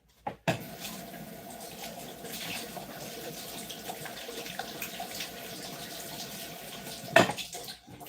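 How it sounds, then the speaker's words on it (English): Hands being washed under a running kitchen tap, a steady splashing water stream that starts abruptly and runs continuously, close by, ending with a clunk of the faucet being turned off. "Let me wash my hands"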